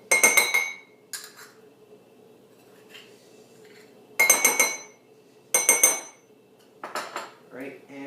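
A spoon clinks sharply against a bowl as softened butter is mixed into white chocolate lemon square batter, coming in several loud, bright bursts separated by quiet pauses.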